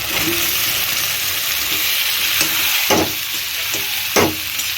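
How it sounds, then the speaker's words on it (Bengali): Boiled meat tipped into a spiced onion and bay leaf masala in hot oil, frying with a broad steady sizzle and a couple of sharp scrapes from a spatula against the pan. "দেখুন এবার আমি ওই মশলাটা সেদ্ধ মাংসটা দিয়ে দিচ্ছি"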